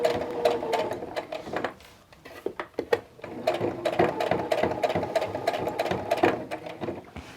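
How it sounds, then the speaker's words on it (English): A sewing machine stitches a fabric face mask in rapid mechanical bursts, pausing briefly midway before running steadily again, close and fairly loud. "So you're going to sew until you get to the edge."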